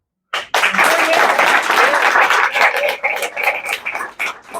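Audience applause breaks out at Manny's, a San Francisco venue, during a live interview with a local politician, loud and close, with dense clapping that thins into scattered claps toward the end.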